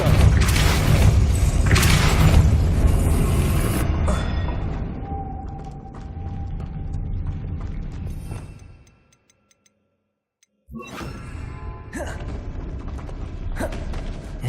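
Depulso spell cast in Hogwarts Legacy, heard as a loud mechanical rush with creaks, ticks and a booming burst that fades to near silence before sharper clicks and knocks return.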